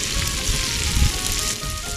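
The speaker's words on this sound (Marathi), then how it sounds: "बघा आता आपल्या तुकड्या मस्त व्यवस्थित एका बाजूने फ्राय झालेले" Pieces of surmai fish sizzle loudly and steadily in oil in a pan, a close, continuous frying crackle with no voices.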